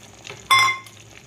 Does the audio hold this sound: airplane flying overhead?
no